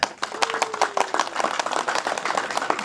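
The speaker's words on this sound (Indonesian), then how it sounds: "Tepuk tangan derek-derek." An audience at a Tengger harvest ceremony claps, a ragged burst of hand claps with a few voices underneath, fairly close and lively throughout.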